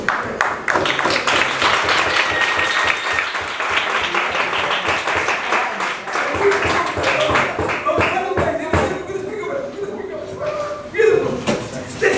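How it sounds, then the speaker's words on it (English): Listeners at a rabbi's religious lecture break into loud, sustained clapping, sharp overlapping hand claps filling the room with some murmuring voices mixed in. "Let's clap the hands."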